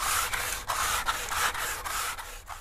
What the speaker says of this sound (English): And then the rest is Jimmy with the sandpaper now.